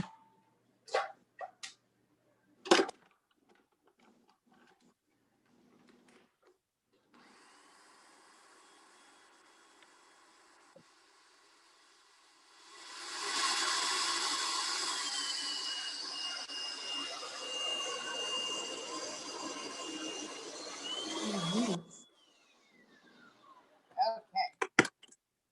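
Food processor grinding fresh herbs with olive oil in a home kitchen, a steady whirring roar of about nine seconds after scattered clicks and knocks, stopping abruptly before more handling noises.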